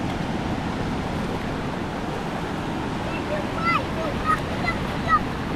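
Ocean surf washing over bare feet at the shoreline of an Australian beach strewn with seashells and rocks, a steady broad rush of water with wind, close and continuous, with a few faint squeaky sounds near the end.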